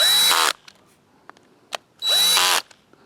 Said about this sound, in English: Have my drill set to the number 3 setting